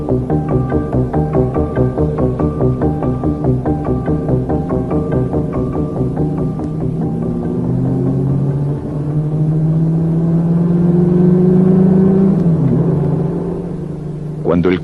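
Car engine rumbling steadily as it drives through the town of Bad Homburg, a low throbbing drone that rises in pitch midway as if accelerating, loud and continuous.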